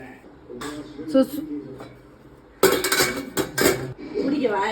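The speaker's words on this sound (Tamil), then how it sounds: "இப்போ மேலே இருக்க லிட்டை மூடிட்டு ஒரு 10 minutes வந்து வெயிட் பண்ணுவோம்" A metal lid clatters onto a steamer pot of kolakkattai dumplings, several sharp close clanks and scrapes of metal cookware between stretches of talk.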